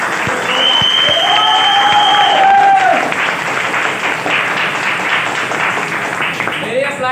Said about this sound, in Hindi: मैं यहाँ पे बैठे अपने ग्रेट गुरुओं के लिए एक जोरदार ताली होना चाहिए